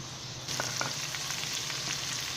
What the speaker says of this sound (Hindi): अब हम इसमें अदरक लहसुन का पेस्ट डालेंगे